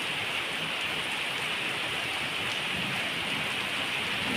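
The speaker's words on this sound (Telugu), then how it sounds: "వాన మటుకు కురుస్తూనే ఉంది." Heavy rain pours onto a flooding road in Hyderabad during summer, a dense, even wash of hiss with no breaks, steady and fairly distant-sounding.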